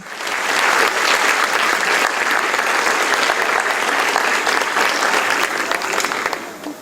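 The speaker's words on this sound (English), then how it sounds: "Let's welcome Supreme Master Chin Hai with a round of applause." Sustained applause from a book-launch audience in Lima, Peru, for the Spanish edition of a book about dogs, a dense steady roar of many hands clapping for about seven seconds before tapering off.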